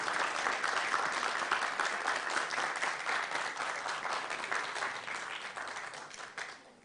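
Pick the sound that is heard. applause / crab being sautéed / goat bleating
applause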